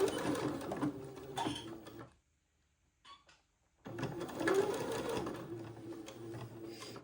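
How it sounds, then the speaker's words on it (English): A sewing machine stitches fabric for an Eton suit at a 1/8-inch seam, running in two close, steady bursts separated by a short pause of near silence. "first I'm going to sew at 1/8 of an inch"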